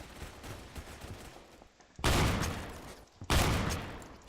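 A Remington shotgun loaded with bird shot fires in the Phantom Forces video game, with two loud, booming blasts about a second apart. Fainter in-game gunfire and rumble come before them.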